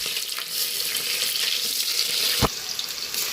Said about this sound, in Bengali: দুটো শুকনো লঙ্কা দিয়ে দিলাম তেলে